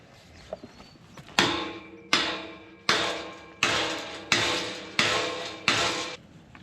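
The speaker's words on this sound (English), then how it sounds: "Just give me the hammer once to see what happens" Six sharp, loud hammer blows on a metal gate bar at an even pace, each ringing briefly before the next strike.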